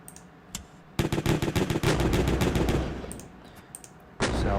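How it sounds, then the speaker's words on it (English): Guns firing at an enemy shipyard in a video game, a rapid burst of loud repeated shots after a single opening blast, then another blast near the end. "So we're going to keep firing all our guns at them."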